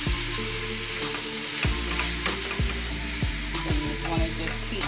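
Steak sizzling in a hot pan for street tacos, a dense continuous crackle up close with several sharp spatula scrapes and taps spread through it, and no talking.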